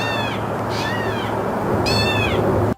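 A catbird imitates a cat's meow outdoors, giving two clear, rising-and-falling mewing calls, the second louder and closer, over steady low background rumble with no talk.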